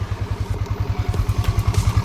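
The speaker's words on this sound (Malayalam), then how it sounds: "നമുക്കിനി വണ്ടിയുടെ എക്സോസ്റ്റ് നോട്ട് ഒന്ന് കേട്ട് നോക്കാം." Yamaha FZ V3 motorcycle just started and idling, its exhaust giving a close, steady, rapid thumping pulse with no one speaking.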